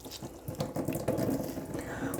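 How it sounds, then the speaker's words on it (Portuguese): Water squeezed out of sphagnum moss in a perforated orchid pot falls and splashes in a steady trickle, close and fairly soft, with no voices. "Eu tô espremendo essa água aqui e ela tá caindo"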